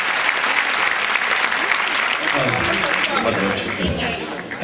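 Audience applause fills a hall after an inspirational song performance, dense and steady clapping throughout, with a voice speaking over it toward the end.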